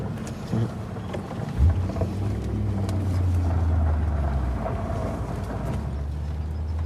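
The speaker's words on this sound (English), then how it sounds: "This is my first drive, first shift to second." A BMW E39 M5 pulls away and shifts from first into second gear, its low engine drone swelling and settling into a steady, loud, close hum with no talking.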